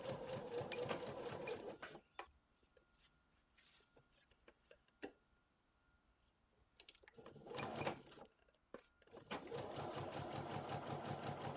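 A sewing machine runs in steady bursts while stitching small capri pants for an 18-inch doll, loud at the start and end with a quieter pause of a few stray clicks in between.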